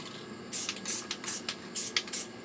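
A spray paint can lets out a mist in six short hissing bursts, each about a quarter second long with brief gaps between, close by and fairly loud, no voices.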